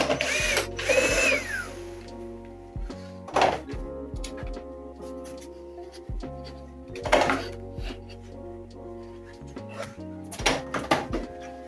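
A screw is backed out of the cover of an HP M177FW printer, giving intermittent ratcheting clicks and whirring screwdriver bursts with knocks and plastic handling noises between them, close up.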